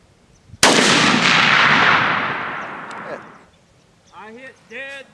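A single loud rifle shot fired during sighting in at a 25-yard range, a sharp crack with a long rolling boom that fades over about three seconds, followed by someone talking.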